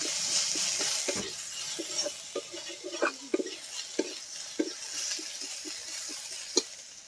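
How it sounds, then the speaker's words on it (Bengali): Chopped onions fry in hot oil with cumin and bay leaf in a pan, a steady close sizzle broken by scraping clinks of a stirring spoon. "পেঁয়াজগুলোকে বেশ ভালো করে ভেজে নেব।"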